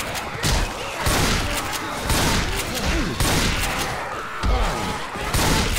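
Loud, rapid bursts of gunfire as survivors shoot zombies in Left 4 Dead 2 on The Parish campaign, with dense overlapping shots and booming impacts packed together over several seconds.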